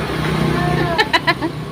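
A motorbike passing on a street, its engine drone rising and fading close by while a few sharp bursts and nearby talk break in partway through.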